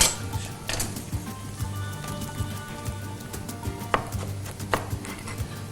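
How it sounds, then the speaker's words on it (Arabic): Coriander and dill being chopped on a board for an Emirati dish, a run of quick knife taps with occasional louder knocks and faint kitchen clatter close by, with no one speaking. "نستغل الوقت ونقص الكزبره والشبنت ثوم"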